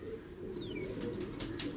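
Pet pigeon cooing nearby in a low, soft murmuring coo that continues steadily, with a faint chirp and light background noise alongside.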